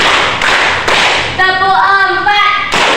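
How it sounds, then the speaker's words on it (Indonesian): A school class claps together in rhythm, with several sharp, loud group claps spaced about half a second apart and children's voices chanting in unison between them. "Tepuk 1, tepuk 2, tepuk 3"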